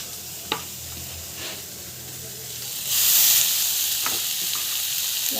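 Food stirred in a hot pan gives a soft, close sizzle with occasional spatula scrapes, then the hiss swells louder and brighter partway through as steam rises; no speech.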